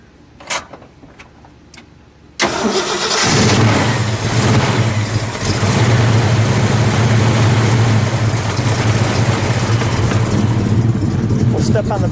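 A 1968 Ford Mustang GT fastback with a 428 Cobra Jet V8 cranks and catches with a sudden loud roar, then settles into a heavy, steady, rumbling idle close by, after a few faint clicks and handling noises beforehand.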